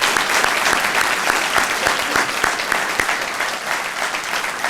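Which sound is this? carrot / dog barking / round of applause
round of applause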